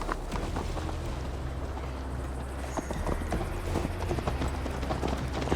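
Rapid rhythmic clip-clop of a horse's hooves as a rider travels in Assassin's Creed Valhalla, steady and fairly loud over a constant outdoor ambience.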